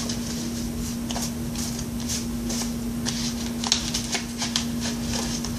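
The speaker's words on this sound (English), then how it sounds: "I'm gonna shuffle just briefly here." A tarot deck is shuffled in quick, repeated riffling bursts close by, with a steady electrical hum beneath and no talking.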